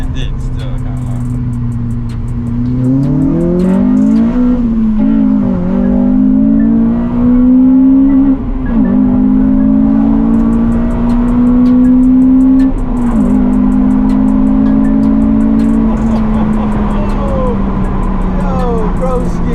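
A Honda Civic Type R FN2 fitted with an HKS intake and Tegiwa exhaust drones loudly from inside as it drives, its engine note rising in pitch, levelling off and dipping between shifts over road rumble, while people talk over it.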